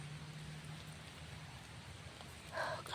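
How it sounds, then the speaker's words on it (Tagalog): Steady rain falling outdoors, a faint continuous hiss with a low hum underneath and a brief brighter splash near the end, no talk. "naku, ulan na naman."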